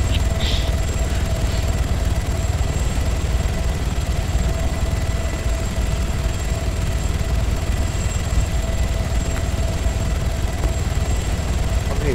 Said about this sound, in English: I've got my helicopter to test it on.